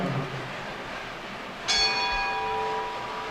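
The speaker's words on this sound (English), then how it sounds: "Bowlers, at the sound of the bell, you may begin." A single bell rings at a bowling competition, its bright sustained tones ringing out and slowly decaying over a steady background hum of the bowling center.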